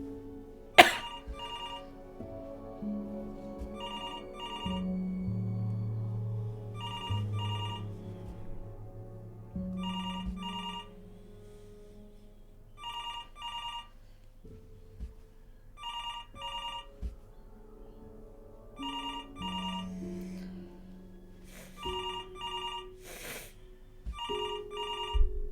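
An old-style telephone bell rings in Before Your Eyes, short double bursts repeating at regular intervals over soft, low ambient music.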